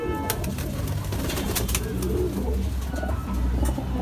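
Madrasi pigeons kept for sale coo continuously and close by, several birds overlapping in a steady murmuring drone with no talk.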